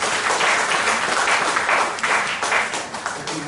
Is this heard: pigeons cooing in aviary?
no